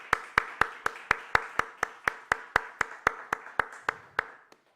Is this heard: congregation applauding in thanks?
yes